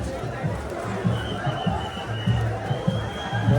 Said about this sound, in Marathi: भरपूर गर्दी आहे भरपूर.